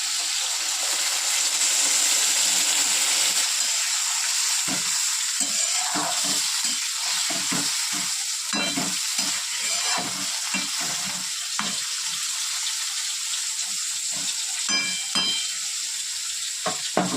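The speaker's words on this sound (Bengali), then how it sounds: "এবার জল অ্যাড করবো।" Water poured into a pan of frying fish sets off a loud, steady sizzle that hisses continuously, with bursts of bubbling and crackling as it boils up.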